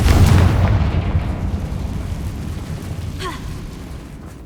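A Confringo fire spell explodes in Hogwarts Legacy with a loud, close boom at the start, followed by a long rumbling decay that fades over several seconds.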